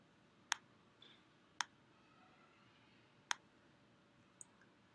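A computer mouse clicks during spreadsheet work, giving four sharp, isolated clicks with long quiet gaps between them, close by and with no talking.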